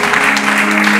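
A church congregation breaks into applause, a dense burst of clapping from many hands that fills the room for a second.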